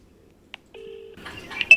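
A phone number is dialed: a short keypad beep, then a steady electronic tone, followed by quicker bright keypad tones and light handling noise, close and moderately loud.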